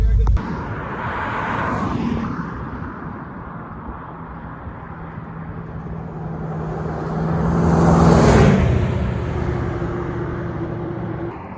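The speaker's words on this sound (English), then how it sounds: "he's getting a kick out of her exhaust." Exhaust of an International Scout, a loud rumbling engine that swells to a roaring peak near the end, heard close by with people talking.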